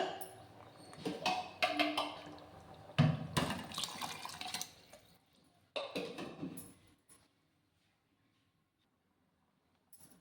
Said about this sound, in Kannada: ಇದಕ್ಕೆ ಇವಾಗ ಎಷ್ಟು ಬೇಕಷ್ಟು ನೀರು ಹಾಕೊಳ್ಳೋಣ